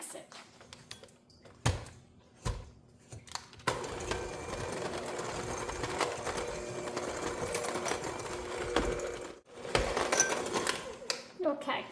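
Electric mixer beating white and brown sugar for pumpkin chocolate chip oatmeal cookie dough, a steady loud motor whir running continuously after a few short clatters, with brief dips and bumps near the end.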